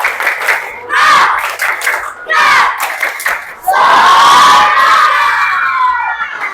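A class of schoolchildren chants and claps in unison in a classroom, loud and close, with bursts of shouted syllables and rhythmic clapping broken by short pauses, then a long sustained group shout.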